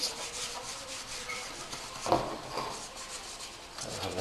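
Cloth or pad scrubbing Honda trim pieces with acetone to degrease them before carbon fiber skinning, a soft, steady rubbing, fairly quiet and close, with one brief sharper knock partway through.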